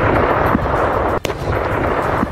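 Combat footage of a Russian missile striking Ukrainian military sites: a loud, continuous roaring rumble is cut by one sharp, percussive blast midway, close and heavy.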